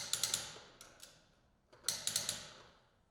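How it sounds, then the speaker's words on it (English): Torquing the lug nuts on a 2024+ Polaris XPEDITION wheel: two bursts of three or four sharp, close clicks each, a brief tick partway between them, with no talking. "torque the lug nuts to specification in a crisscross pattern"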